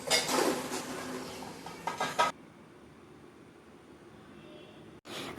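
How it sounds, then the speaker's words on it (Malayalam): Pots and dishes are scrubbed and washed, with dense clattering metal and rushing scrubbing noise for about two seconds, then a quiet low background before a brief return of clatter at the end. "കുറച്ച് പാത്രങ്ങളുണ്ട്, അത് അങ്ങ് തേച്ചെടുക്കുവാണ് കേട്ടോ"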